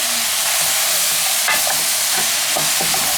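Tomatoes being mixed with salted dried meat in a hot pan, a loud, constant sizzle broken by a few brief scrapes and knocks of the stirring utensil.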